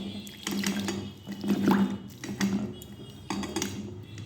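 Fresh chhena (paneer) is washed gently by hand in a bowl of water, giving soft splashes and sloshing in several bursts with the occasional clink of the bowl, close by and without speech.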